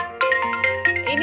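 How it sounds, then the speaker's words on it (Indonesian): A mobile phone rings with an incoming call, a bright melodic ringtone playing close and clear in quick rising and falling notes. "Dinda, ini ada Tante Dewi nelpon, ibu lagi ceramah."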